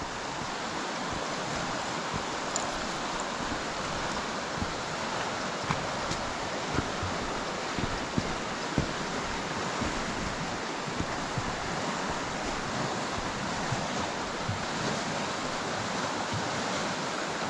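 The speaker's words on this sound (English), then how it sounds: "You hear the air bubbles where the river's going underneath big boulders over the air pockets." Steady, loud rushing water fills the whole stretch, a dense continuous roar of a river churning around and under boulders, with air bubbles, and no voices.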